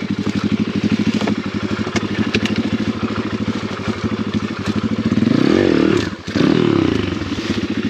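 An Apollo RFZ enduro dirt bike chugs along a loose, tight wooded trail, its close engine thumping in a steady rhythm, then revving harder and briefly cutting out before picking back up.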